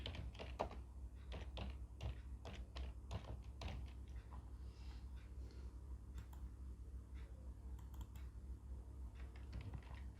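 Computer keyboard keys clatter in quick irregular bursts while text is retyped in Adobe Illustrator, close and fairly faint over a low steady hum, with pauses between runs of typing.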